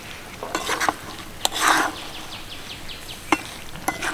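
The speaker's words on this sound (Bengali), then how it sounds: "মশলাটাকে কিন্তু খুব ভালোভাবে মিশিয়ে নেবো চালতার সাথে" A spoon scrapes and stirs spice mix through cooked chalta (elephant apple) pickle in a pan, with soft sticky scraping strokes and a few sharper clinks against the metal, all close up and fairly quiet.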